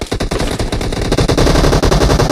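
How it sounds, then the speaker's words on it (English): Rapid automatic gunfire in a team deathmatch video game fires in dense, loud, continuous bursts for a couple of seconds with no talking. "Who's shooting?"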